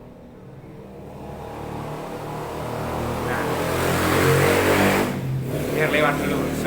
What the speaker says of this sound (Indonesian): biar lewat dulu suara motor